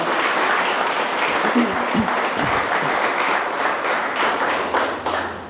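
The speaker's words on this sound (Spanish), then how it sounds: "Dele un aplauso a Dios por su palabra" A church congregation applauding during a sermon, a dense continuous round of clapping that fills the space and tapers off at the end, with a voice faintly under it.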